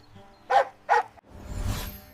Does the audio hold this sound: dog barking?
yes